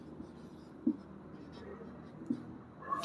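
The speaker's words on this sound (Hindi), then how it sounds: "तो सबसे पहले इसका आणविक सूत्र लिखेंगे।" Pen scratching out a molecular formula by hand for a Class 10 hydrocarbon lesson, faint soft strokes with a few light taps, quiet and close.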